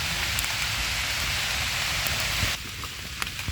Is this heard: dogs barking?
no